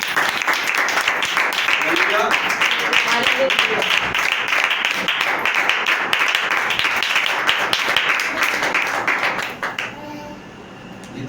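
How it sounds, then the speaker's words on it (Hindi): A church congregation claps loudly in celebration at an Easter service, a dense, sustained burst of applause with some voices mixed in, which suddenly drops away and fades near the end. "जोरदार तालियां बजाएंगे"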